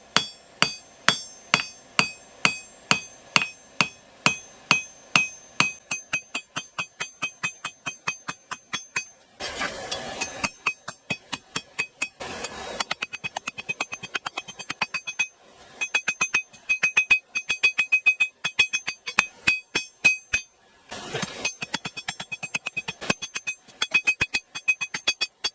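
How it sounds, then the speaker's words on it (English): Rhythmic metallic blows from a hammer's peen on hot steel ring out close by, a steady series of sharp clanging strikes with brief pauses and bursts of harsher noise between runs. "I'm just going to use the peen of the hammer"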